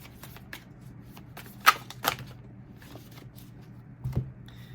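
Tarot cards riffle and slap in a few quick, close shuffling bursts, soft between strokes, with no talking over them.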